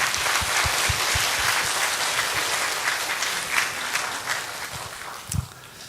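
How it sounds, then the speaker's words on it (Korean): A church congregation applauds together in a steady, loud burst of clapping that fills the sanctuary, with a few sharper claps standing out near the end. "다시 한번 영광의 박수 올려드려요"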